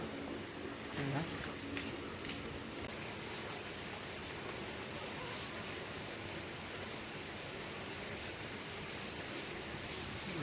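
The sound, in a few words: heavy rain falling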